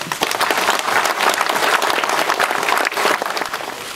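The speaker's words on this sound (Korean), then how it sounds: "이제 우리 모두에게 서로 큰 박수로 응원합시다." A crowd at a political party primary rally applauds loudly and steadily, dense clapping filling the space at full strength throughout.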